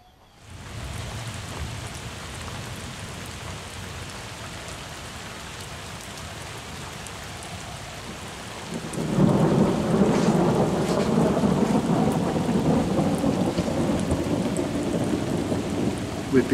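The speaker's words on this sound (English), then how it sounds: "We'd been warned that storms were forecast, and it didn't take long for the first one to arrive." Steady rain from an arriving storm on a Hungarian island lake, falling first at moderate strength, then swelling into a heavier downpour with low thunder rumbling partway through, close and continuous, no talking.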